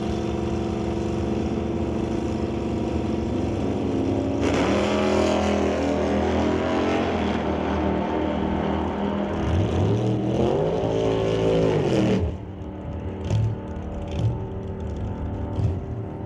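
Loud engines roar as hot rod cars launch and accelerate hard in a drag race, revving up through gears before the noise cuts off and fades into background sounds.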